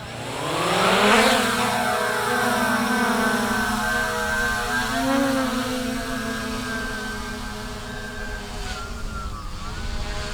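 Hubsan Zino 2 drone motors spinning up for a manual takeoff, a loud, steady multi-tone whine that swells early, then holds and shifts slightly in pitch as the rotors keep running close by.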